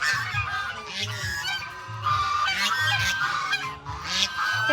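A flock of ducks by a pond quacks and honks repeatedly, several loud nasal calls overlapping in irregular bursts nearby.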